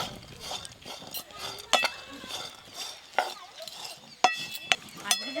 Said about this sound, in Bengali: ডালটাকে ভালো করে গরম কড়াই তেল না দিয়ে ভেজে নেবো।